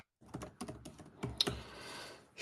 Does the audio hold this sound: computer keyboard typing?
yes